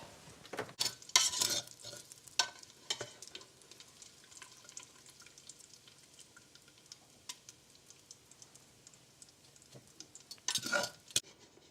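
Bacon crackles in its collected grease in a pan, faint steady sizzling punctuated by sharp pops and a few louder scraping bursts near the start and end.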